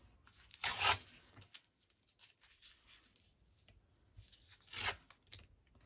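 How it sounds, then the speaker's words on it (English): A piece of paper is torn off by hand for a collage masterboard, giving two loud, close, rasping rips a few seconds apart, with faint rustling in between. "I'm going to tear that edge off there. And I'm just going to tear a piece off like that."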